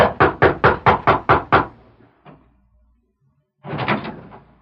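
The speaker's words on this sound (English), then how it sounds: "rapped at the back door of the ranch house" Seven quick, evenly spaced raps on the back door of a ranch house on a bright summer morning, loud and close, followed by a short pause and the muffled thud of the door.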